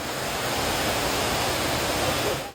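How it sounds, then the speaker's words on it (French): Torrential floodwater pouring down the stairs of a Tokyo metro station during a cloudburst, a dense, unbroken roar of rushing water, loud and constant throughout. "Les escaliers et les escalators ressemblaient davantage à des cascades"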